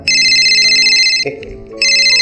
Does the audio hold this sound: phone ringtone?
yes